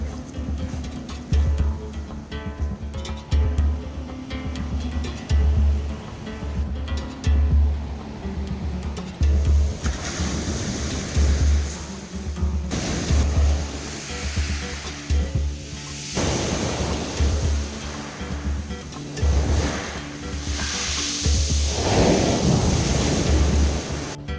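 Pacific Ocean surf on the west shore of Nootka Island, a continuous roar of breaking waves with wind buffeting the microphone, swelling and easing in loud surges with no voices.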